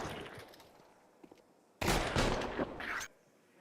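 Rapid bursts of Counter-Strike gunfire at a pro esports match crack out in a sudden loud volley after a quieter stretch of distant game sounds.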